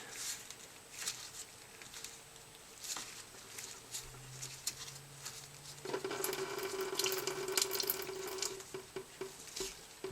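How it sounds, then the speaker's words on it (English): Coolant draining from a Honda Prelude during water pump and timing belt work, a soft steady trickle and patter of liquid with scattered drips, growing somewhat louder and fuller partway through, with no talking. "The coolant will drain."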